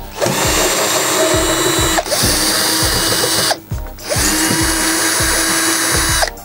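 A loud power drill runs close by, whining steadily as it backs screws out of a UPS casing, with two brief pauses and repeated rattling of the bit, with no voices.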